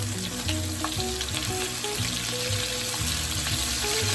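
Lamb cuts, some thick and some thin, frying in a pan: a loud, dense, continuous sizzle close up, with no one talking.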